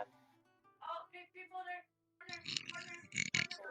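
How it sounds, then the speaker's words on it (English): A person belches close into a microphone, a low guttural burp set among bits of nearby speech. "I definitely didn't just burp into the mic"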